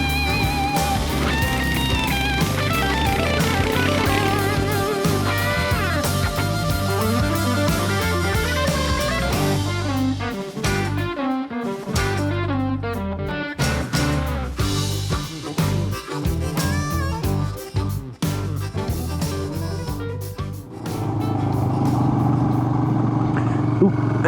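A Royal Enfield Himalayan single-cylinder motorcycle crawls through road corners in first gear, its engine note steady and close with shifting pitch as revs rise and fall, continuous throughout and without talk.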